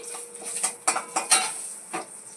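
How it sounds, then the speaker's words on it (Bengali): Bay leaf, a piece of cinnamon, cloves and cardamom crackle in hot oil in a wok for butter paneer, with a soft sizzle and a few sharp close stirring scrapes over about two seconds. "তেজপাতা এক টুকরো দারচিনি তিন চারটে লবঙ্গ আর দুটো এলাচ কড়াইতে আমি দিয়ে নেব"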